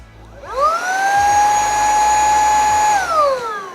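An Ofuzzi cordless handheld vacuum cleaner spins up to a steady high-pitched whine, runs evenly for about two seconds, then winds down, close and loud with no talk.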